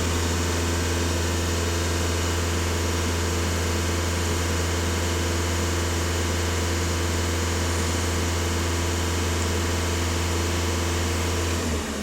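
A VW Passat engine with exhaust-gas recirculation and swirl-flap faults runs at a raised, steady 2500 rpm, a loud continuous low drone and hum holding evenly throughout before easing slightly at the very end, with no talk.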